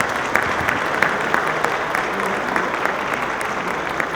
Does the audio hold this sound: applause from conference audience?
yes